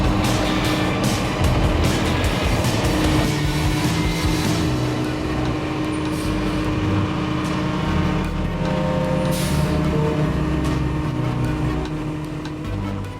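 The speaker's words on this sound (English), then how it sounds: "So we put the crane in reverse and drove over it again." A 40-ton crane driving slowly over a SnapPad: a steady, loud heavy-vehicle engine rumble with diesel drone close by, continuous throughout with a slight fade at the end.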